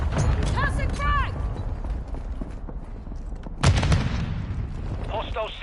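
A frag grenade blast and rapid gunfire in Modern Warfare 2, loud booming bursts and crackling shots with a heavy low rumble, a sharp burst near the middle, and game voices calling out over the action.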